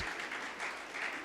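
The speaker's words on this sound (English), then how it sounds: "Let us give a round of applause and welcome into our midst." Applause rises from the audience at a graduation ceremony, a brief, fairly soft wash of clapping with no voices over it.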